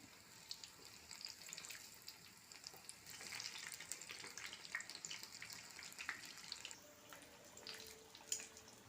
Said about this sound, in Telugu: బజ్జీ ఇలా ఫ్రై అవుతుంది, ఇంకా కొంచెం ఫ్రై అవ్వాలి